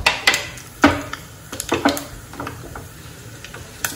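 Mustard seeds, cumin and urad dal crackle in hot oil in a pan for a chutney tempering, giving sharp, scattered pops and spitting bursts at irregular intervals over a soft, low sizzle.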